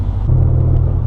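A 2005–2009 Ford Mustang exhaust rumbles loud and deep from inside the gutted, stripped cabin, a low steady drone that thickens slightly as the engine picks up, with no talking.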